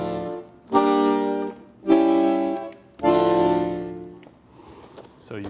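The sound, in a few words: tango pesante rhythm, long drawn-out heavy feel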